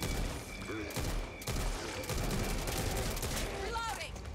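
Teammates' gunfire in the zombie shooter Back 4 Blood: dense, rapid automatic bursts that crackle continuously and loudly throughout, with a few brief gaps and in-game voices faintly underneath.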